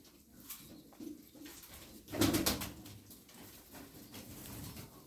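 Pigeons coo softly in the background, with a louder flurry of bird sound in the middle, like wings flapping or a burst of calls.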